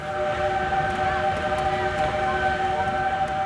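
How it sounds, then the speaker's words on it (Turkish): An Ottoman-era steam train on the Hejaz Railway out of Amman, Jordan, rumbles nearby while a steady whistle tone sounds over the chugging and clanking, loud and continuous. "Osmanlı zamanından kalma buharlı trenle Amman'dan başlayan yolculuk"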